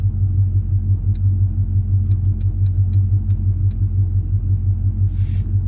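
A 1970 El Camino with Gear Vendors overdrive and paddle shifters making a hard acceleration run, its engine a steady deep rumble throughout with light ticking clicks over the top.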